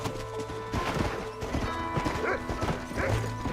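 Horse hooves clip-clopping at a gallop in the Red Dead Redemption video game, a rapid rhythmic series of close, loud hoofbeats with a brief whinny-like tone near the end.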